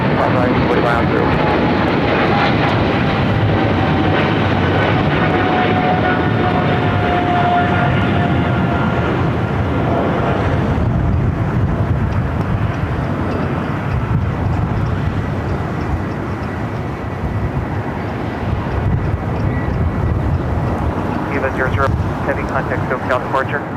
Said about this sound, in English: Spirit Airlines flight 670 coming in from Vegas and the A320 Neo now crossing over